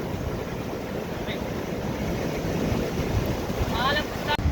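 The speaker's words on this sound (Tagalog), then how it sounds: "Ngayon biglang lumakas na naman ang hangin." Steady roaring wind buffets the microphone over a constant wash of heavy surf, with a few faint high chirps near the end.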